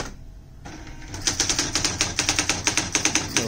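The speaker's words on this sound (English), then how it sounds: "you'll see that the typewriter takes off again." A typewriter driven as a printer from a computer's parallel port chatters through a file in rapid, loud, evenly spaced strikes after a brief quiet start.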